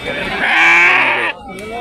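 Large Rayalaseema rams bleating, a loud close sustained bleat followed by a shorter one, with a voice talking in the background.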